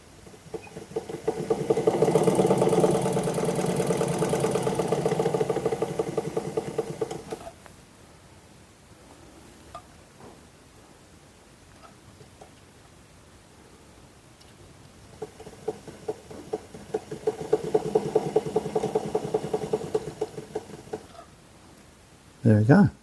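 An old treadle sewing machine runs in two bursts of steady mechanical whirring and chattering, each lasting several seconds, separated by a quiet stretch with faint clicks, close to the microphone.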